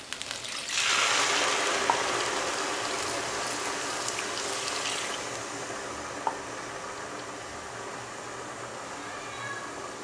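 Water poured onto rice in a pan for soya and pea pulao, a steady close pour that starts about a second in and continues to the end, hissing and splashing under faint kitchen sound.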